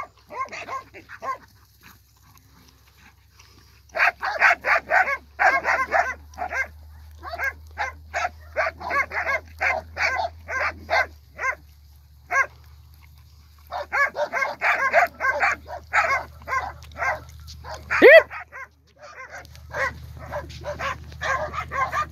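A six-month-old red female puppy barks in repeated rapid bursts, close and fairly loud, with short pauses between volleys and a lower hum underneath.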